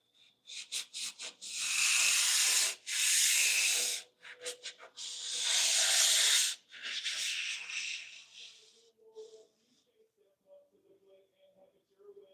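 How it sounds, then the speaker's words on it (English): Wooden pieces being sanded by hand in a woodworking setting, with harsh rhythmic scratchy strokes in long bursts, close and loud, then trailing off as faint talk takes over. "These are the last two I have to sand,"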